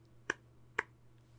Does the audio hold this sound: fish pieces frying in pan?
no